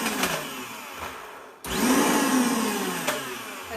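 A blender pulses a vegan cheesecake mixture in two loud, close whirring bursts, the first short and cut off, the second rising and running longer before it drops away.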